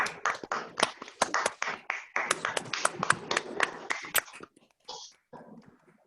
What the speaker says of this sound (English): let's have a round of applause for all participants in today's fun debate